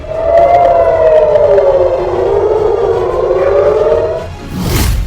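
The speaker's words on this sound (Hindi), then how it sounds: "हर तरफ सायरन बज रहे हैं।" Civil defense siren wailing after rocket attacks in Rehovot, Israel, a loud sustained tone that rises and slowly falls, with a rushing roar and a louder burst of noise near the end.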